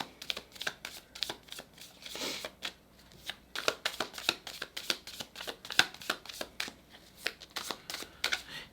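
Tarot cards are shuffled by hand in a quiet room, with a rapid series of crisp riffling and slapping bursts that come in uneven clusters and brief pauses, close and clear.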